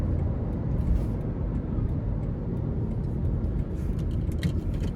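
A 2008 Toyota Camry SE with a 4-cylinder engine and 5-speed transmission pulls through traffic, a steady low engine and road drone heard from inside the car, fairly quiet and unbroken.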